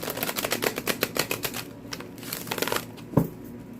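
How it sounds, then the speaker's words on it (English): Crisp, rapid riffling and slapping of tarot cards being shuffled, several quick bursts in a row, then a pause and a sharp single tap near the end. "I'm going to do one more shuffle here"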